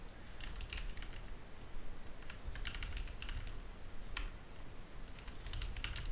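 Computer keyboard typing in short bursts of quick clicks, separated by brief pauses, close and fairly quiet over a steady low hum, with no talking.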